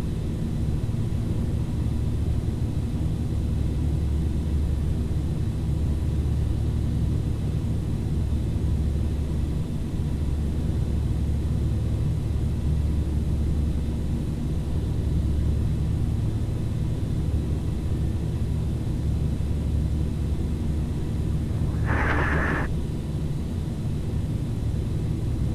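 Carenado Fokker 50 turboprop airliner in the P3Dv4 flight simulator during a snowy takeoff, a steady loud low engine rumble and broadband roar sustained throughout, with a brief higher chime-like tone near the end.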